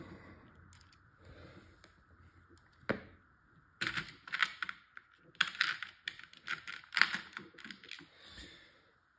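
Screws are fitted into a Byrna LE less lethal launcher, making close, faint clicks and small metallic taps that grow denser and sharper in the second half.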